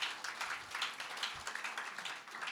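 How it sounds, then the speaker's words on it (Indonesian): Faint, distant applause from an audience at a university inauguration ceremony, a brief spatter of scattered hand claps with no voices over it. "tepuk tangan dulu"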